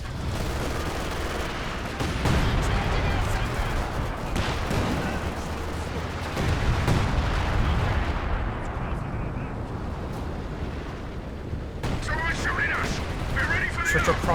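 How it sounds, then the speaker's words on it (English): Booming artillery fire and rattling gunfire in a Company of Heroes 2 match, dense overlapping blasts and explosions rumbling continuously, with a voice talking over the battle. "Zeroing artillery has been tasked right here"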